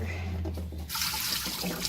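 A tap runs to refill a pet's water bowl, the flow starting partway through as a bright, steady splashing rush that follows a low hum.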